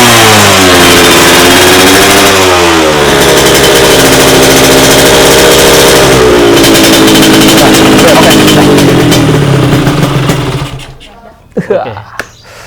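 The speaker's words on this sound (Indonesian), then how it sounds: "Saya jadi penasaran nih kayak gimana sih suaranya Honda LS125 ini." A Honda LS125 two-stroke motorcycle with a Thai aftermarket exhaust and an opened-up carburettor revs loudly up close, its pitch sweeping up and down several times before the engine cuts, followed by a few brief voices.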